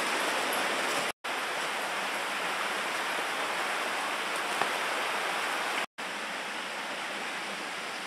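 A mountain creek flowing beside a hiking trail, a steady broadband rush of water running continuously at close range, broken by two brief cuts.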